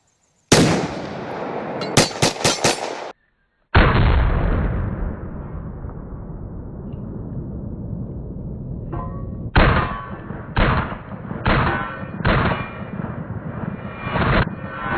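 An FN 502 Tactical pistol fires Federal Punch rounds at targets on an outdoor range. Loud, sharp reports with ringing decays come as a quick cluster of shots, then a pause and several more spaced shots.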